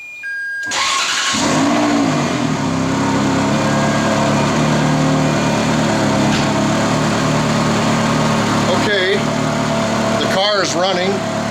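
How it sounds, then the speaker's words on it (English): A sports car engine with a racing exhaust and bypass valves starts and settles into a loud, rumbling idle with a throaty exhaust note. Brief bursts of revving and faint voices are heard near the end. "we're going to start the car up and make sure the exhaust bypass valves work"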